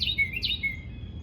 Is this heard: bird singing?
yes